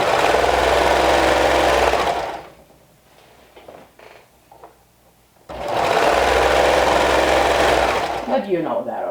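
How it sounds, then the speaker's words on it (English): A serger overlock machine sewing and trimming fabric whirs at high speed in two steady bursts, pausing briefly between them with faint handling noises. "the serger cuts the excess off"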